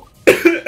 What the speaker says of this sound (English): I swallowed air and then coughed and didn't sneeze.